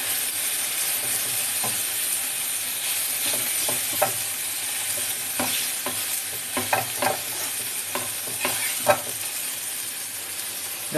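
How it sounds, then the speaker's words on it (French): Cheese is stirred into a cream sauce in a pan for tacos, a continuous frying sizzle with repeated scraping clicks of the utensil against the pan, close and without talk. "On va venir mélanger, faire fondre el queso dans la crème"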